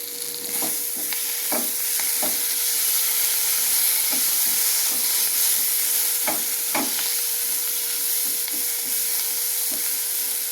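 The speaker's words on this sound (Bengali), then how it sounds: "সর্ষেটা দিয়ে একটু ভাজা ভাজা করে নিয়েছি" Mustard paste frying in a pan with turmeric gives a constant close sizzle, broken by several sharp spatula scrapes and stirring knocks spread across the stretch, with no voices.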